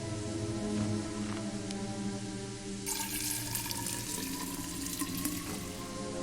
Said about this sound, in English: Water! Water in the pot.